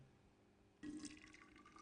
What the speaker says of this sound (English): Next, enough hot water to dissolve the sugar and coffee is added.